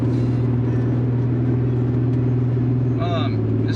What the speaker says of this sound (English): Well, just driving with the new spark plugs, it seems a lot better.